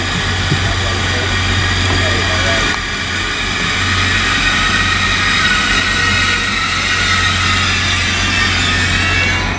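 A Class 180 Adelante diesel unit at Grantham station on the East Coast Main Line sends out a loud, steady engine drone with a low tonal hum, recorded close.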